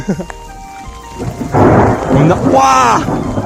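A mountain thunderstorm with hail on a hiking trail, loud thunder rumbling and cracking close by over steady rain, with a voice exclaiming in the middle.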